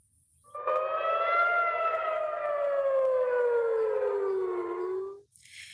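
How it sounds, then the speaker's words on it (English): A single long wail of an air raid siren in Israel, steady and loud, its pitch slowly sliding downward for about five seconds before cutting off. "overnight air raid sirens were heard in Tel Aviv and Jerusalem"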